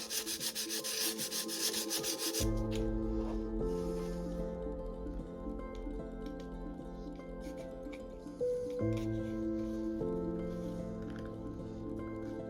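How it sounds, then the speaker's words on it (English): Sandpaper rubbing a part of an FX Impact .22 pellet magazine: a harsh scraping burst at the start, then quieter rubbing beneath steady background music. "I just take my sandpaper and give it a little rub, just to make sure that it's slightly under"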